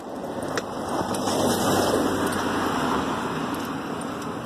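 A car follows close behind on a road, giving a steady engine and tire rumble that swells a little in the middle and then holds, with no talking.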